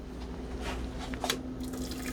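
Beer-braised chicken is poured into a pressure cooker, a short, close splash of liquid with a few drips over a low steady hum.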